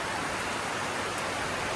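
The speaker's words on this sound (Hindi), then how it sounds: "बारिश इतनी तेज हो गई है," Heavy rain pours down during a village wedding, a dense, loud, continuous hiss with no breaks and no voices.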